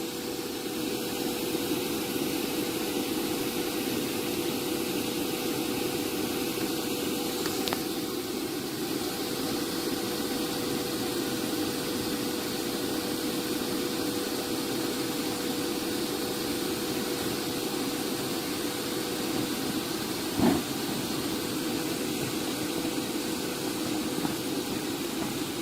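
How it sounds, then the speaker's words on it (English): An electric blower runs continuously, inflating an outdoor inflatable movie screen with a steady, loud droning whoosh and low hum that holds unchanged throughout, with a couple of faint clicks. "all that's left to do is to come turn our blower on, and let's time it"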